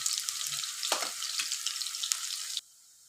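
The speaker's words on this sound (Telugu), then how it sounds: "ఆనియన్స్ కొంచెం ఫ్రై అవ్వాలి." Onions fry in a pan with mustard seeds and cumin, a bright steady sizzle with a few stirring scrapes, cutting off abruptly near the end.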